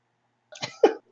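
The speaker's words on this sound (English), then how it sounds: "I realized as soon as I went to sneeze that was right into my mic" A person sneezes right into a microphone during a tabletop role-playing session, two quick close bursts, a soft intake then a sharp loud explosive sneeze, abruptly over in a near-silent room.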